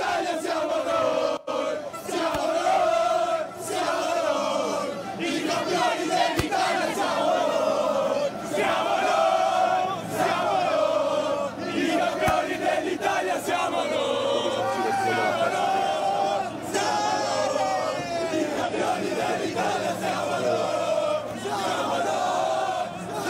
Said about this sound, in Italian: abbiamo sentito nitidamente insomma i cori dei tifosi dell'Inter, ovviamente in festa